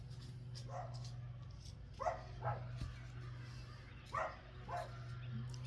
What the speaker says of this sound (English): Yeah, he's barking again.